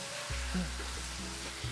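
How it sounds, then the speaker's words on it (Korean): Mushrooms and caramelized onions stir-frying in an oiled pan, a steady close sizzle with a few brief scraping stirs and small bumps from the pan. "양파의 카라멜라이징이 어느 정도 되었을 때 버섯도 넣고 함께 볶아줄게요"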